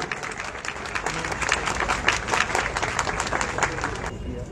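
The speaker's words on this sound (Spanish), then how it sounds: "Fuerte los aplausos una vez más para Damián Santisteban de Ferreñaz" A crowd applauds the prize winner at a photography contest award ceremony, sustained dense clapping that swells in the middle and tapers off at the close.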